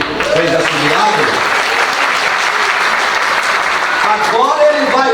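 A church congregation during a revival service breaks into dense, loud applause that carries on steadily, with voices talking and calling out over the clapping.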